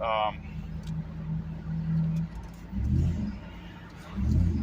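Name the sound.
Hemi Ram truck engine with K&N cold air intake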